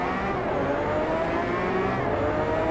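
A Lamborghini engine in the racing game Driveclub holds a steady, loud drone for a few seconds, a continuous synthetic car roar with no pauses and no talk over it.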